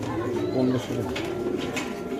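Afsan grizzle pigeons coo steadily in low, rolling tones at a pigeon farm, heard under ongoing conversation.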